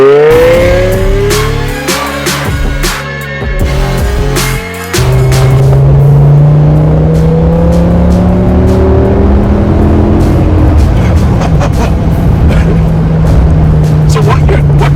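A BMW E60 M5 engine pulls hard from inside the car, its note climbing through the revs, cutting briefly at a gear change, then rising loud again. Someone talks over the engine.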